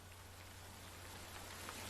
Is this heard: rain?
yes